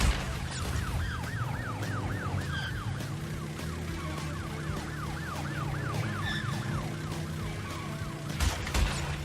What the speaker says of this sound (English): The police cars are how I imagine Phil would be driving in real life